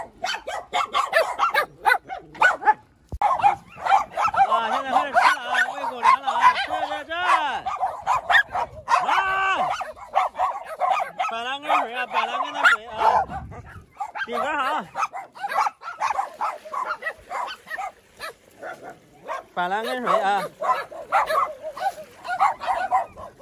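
Stray dogs bark and yip at a rescue shelter run alongside a barber shop, several dogs going off in scattered bursts with some whimpering, mixed with people talking nearby throughout.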